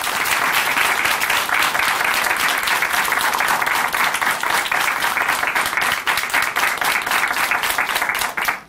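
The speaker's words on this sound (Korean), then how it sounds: "다시 한번 큰 박수 보내드릴게요" Studio audience applause on a Christian testimony television program, steady dense clapping filling the room at a loud, even level for several seconds before tapering off at the end.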